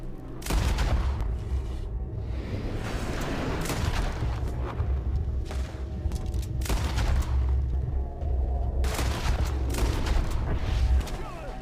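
Dense gunfire rolls through a shootout in the video game Red Dead Redemption 2, overlapping shots and booming blasts crackling continuously at loud level, with shouted voices mixed in.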